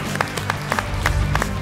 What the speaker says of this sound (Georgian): აპლოდისმენტები გავაკეთოთ.